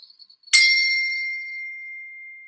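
After a few faint taps, a single strike of a beater on a bell sounds a clear, bright ding that rings on and decays gradually across two seconds, close and alone.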